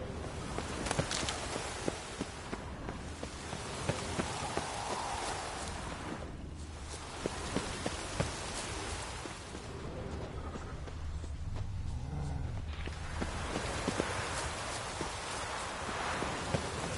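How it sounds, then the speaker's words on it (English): Steady rain falls in The Witcher 3, a dense continuous hiss that holds at an even level with faint scattered patters and no talk. "Looks like rain."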